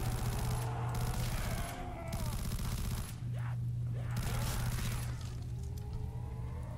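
Automatic weapon with heavy kickback firing in Call of Duty Custom Zombies, a dense continuous fusillade of shots with a steady low hum beneath, briefly easing around the middle before resuming.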